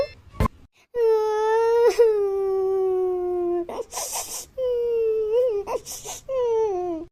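A woman wails and sobs loudly up close in long drawn, falling moans broken by sharp gasps and sniffles, repeating for several seconds.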